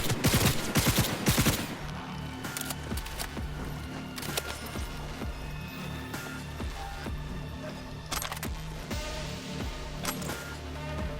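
Rapid gunfire from a firefight in the video game Cyberpunk 2077: an opening burst of automatic shots, then scattered sharp reports and clicks over a constant low rumble of game noise.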